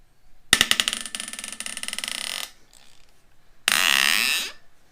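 A ratchet socket wrench works on a 2008 Subaru Impreza cylinder head bolt, giving a fast rattling burst of clicks for about two seconds, a pause, then a second shorter buzzing ratchet run, close and loud.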